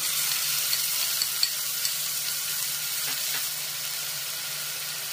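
Bengali spicy mutton curry ingredients with ground cumin, coriander, tomato puree and onion paste are stirred in a hot pan, giving a steady, close frying sizzle with faint scraping taps from the spoon and no talk.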